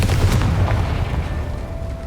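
A Confringo blasting spell in Hogwarts Legacy bursts with a deep booming explosion and a low rumble that fades over a couple of seconds, loud and alone.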